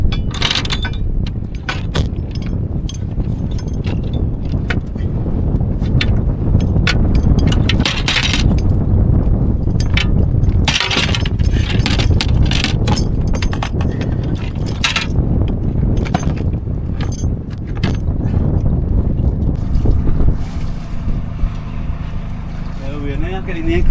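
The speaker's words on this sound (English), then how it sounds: "Getting the anchor up." An anchor windlass on a sailboat anchored off Tonga hauls in the anchor chain with steady mechanical grinding and dense metallic clanking and rattling throughout, close by, with a voice talking at times.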